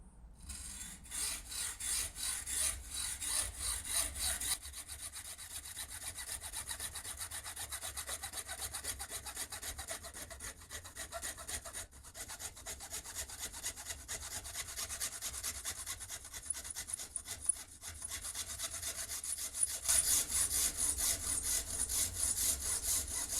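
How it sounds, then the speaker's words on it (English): A graphite golf club shaft clamped in a vise is cut by hand with a saw, giving a steady, continuous rasping stroke that runs close and unbroken for the whole stretch with no talking. "cutting it by hand. I'm going to try and get it as close to the vise as possible"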